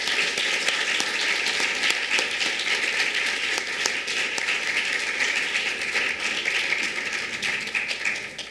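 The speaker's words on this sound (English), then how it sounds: "So let's give everybody a round of applause and welcome them to your seat." Audience applause at a USC Women in Architecture event, steady dense clapping filling the whole stretch at an even level, with no voices over it.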